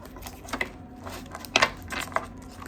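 Tarot cards riffle and slap together in a few short, crisp bursts at close range, with light rustling between them.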